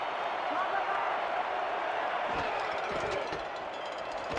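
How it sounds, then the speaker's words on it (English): A stadium crowd roars steadily during a key third-down play in a simulated football game between Florida and Lexington, a dense, sustained wash of cheering that swells slightly near the end. "You hear the crowd."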